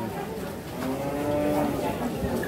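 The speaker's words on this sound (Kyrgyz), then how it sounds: "Так, саан уйлар." A dairy cow at a busy outdoor livestock market gives a drawn-out moo that rises above a steady crowd murmur and scattered faint voices.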